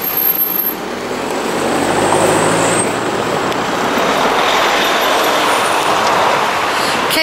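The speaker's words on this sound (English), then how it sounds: "This is the rush hour traffic now, Stratford on Avon." Rush hour traffic crossing Clopton Bridge over the river at Stratford upon Avon, a dense continuous roar of cars and trucks passing close by, loud and steady throughout.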